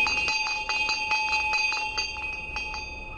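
A school bell rings steadily, a bright metallic clang struck again and again in a quick, even rhythm, with the ring hanging between strikes and no voices over it.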